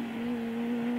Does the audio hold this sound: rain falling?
no